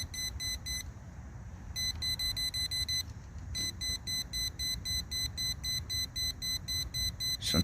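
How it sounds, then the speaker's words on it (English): An electrical power tester beeps rapidly at an outlet, a fast repeating series of high electronic tones that pauses twice briefly, then resumes steadily and close. "Let's take our power tester. Let's test it out."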